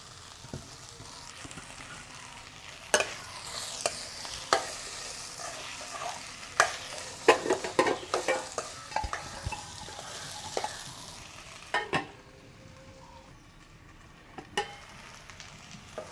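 Onions and curry leaves fry for a Sri Lankan seeni sambol, with a low steady sizzle under frequent sharp scraping and clacking stirs of a spoon against the pan, close and irregular, the stirring pausing briefly before resuming.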